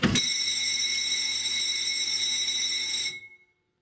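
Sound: bell ringing at a sawmill

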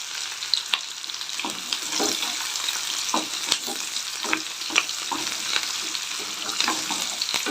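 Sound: onions and curry leaves frying in a pan

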